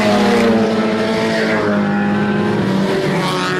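Race cars roaring around a speedway oval at Showtime Speedway, loud and close, the engine whine sweeping in pitch as the pack passes, with skidding tire noise.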